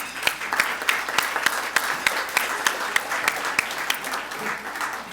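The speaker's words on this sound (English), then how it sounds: "Another round of applause, please." Applause rises from an audience closing an internet safety seminar, a steady crowd clapping with a few sharp, distinct claps standing out nearby at a moderate level.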